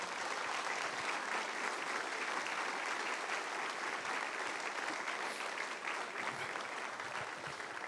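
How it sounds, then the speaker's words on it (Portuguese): Church congregation applauding continuously, a thick even wash of many hands clapping heard from some distance, fairly quiet and without pause or voices. "dá a sua melhor salva de palmas ao Senhor"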